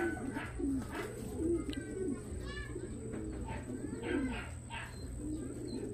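Racing pigeons coo repeatedly at a loft during a young-bird derby, soft throaty calls layered over steady chirps and a low background hum, with a few brief voices in the distance.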